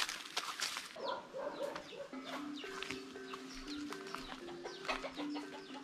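Wild rooster heard outdoors in the open, with repeated clucks and a crow-like call rising over a steady bed of other birds and rustling, fairly close and continuous throughout.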